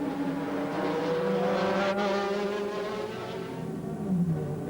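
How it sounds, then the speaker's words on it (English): Sports-prototype and GT race cars from the 2003 American Le Mans Series, including an Audi and a Ferrari 360 Modena, roar past nearby with loud, sustained engine whine and a shifting pitch as one car overtakes another. "the advantage that Frank Bieler has as he comes up behind the 360 Modena in the GT class and looks for a way past the car and gets it very easily indeed."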